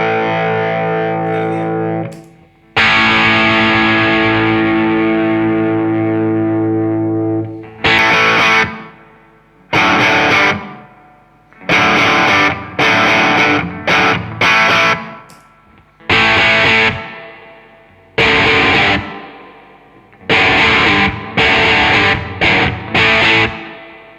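Electric guitar played through Fender Deluxe Reverb amps, a Tonemaster and a 1967 vintage model, pushed by an AC Booster pedal: a long sustained overdriven chord, then a run of loud, choppy strummed chords with short gaps.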